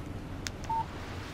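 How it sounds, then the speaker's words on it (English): Phone text message alert in the video game Alan Wake: a short electronic beep tone, clear and close, with faint background ambience and no speech. "Text message from Barry."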